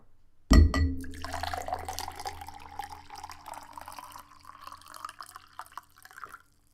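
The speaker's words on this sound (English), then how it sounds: "Let me pour myself some water really quick." Warm water gets poured into a glass, starting with a sharp clink and splash and then settling into a steady trickling fill that rises in pitch as the glass fills, close up and with no talking.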